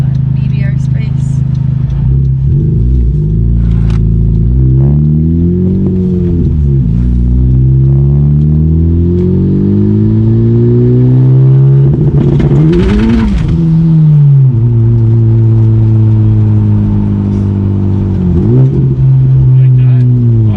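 A tuned Honda Civic Type R engine revs and accelerates, loud and close, its pitch repeatedly climbing and dropping through throttle blips and rev-matched downshifts, with steady droning between the surges.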